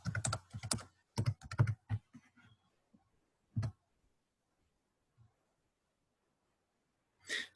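A password is typed on a computer keyboard: quick bursts of crisp keystrokes at first, then a few scattered taps separated by silence, all fairly quiet and close.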